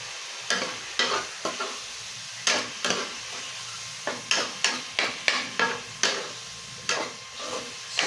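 Spaghetti sauce with mushrooms and pepper simmers in a pan, giving a soft, steady sizzle broken by a string of sharp stirring and scraping knocks at uneven intervals, close and moderately loud, with no talking.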